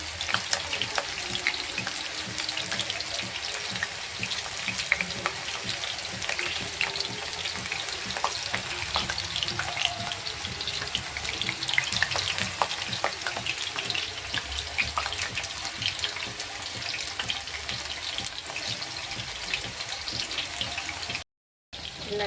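Chicken deep-fries in oil, giving a steady, moderately loud bubbling sizzle with crackles and occasional stirring, continuing with no talk until a brief cut near the end.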